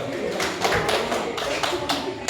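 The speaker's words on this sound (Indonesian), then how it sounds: "Oke, tepuk tangan dulu" A school class claps their hands together in a classroom, a dense run of many palms clapping in uneven bursts, with voices faintly beneath.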